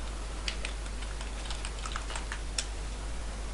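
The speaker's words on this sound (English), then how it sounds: "And let's see if I'm typing it good." Code is typed on a computer keyboard in quick, irregular keystrokes, light close clicks over a steady low hum, with no talking.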